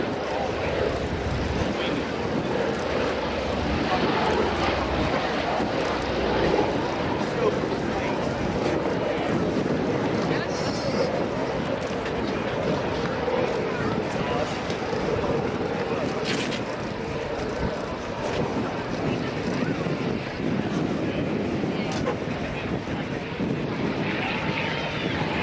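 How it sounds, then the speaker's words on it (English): A P-47 Thunderbolt warbird flies at an airshow, its engine a continuous, loud, broadband roar with wind rumble that holds steady throughout. "And the mighty sound of the Jug, the"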